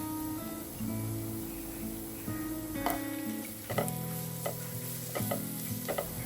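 Masala spice powders being stirred in a frying pan for a Malabar-style chicken snack, with a steady sizzle and scraping spoon strokes throughout, alongside a tonal background hum.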